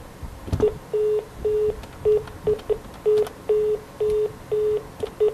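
A faulty school telephone line plays a repeating electronic tone pattern when a call is placed: short and longer steady beeps, evenly spaced with a few brief clicks, loud and close over faint hiss, with no voices.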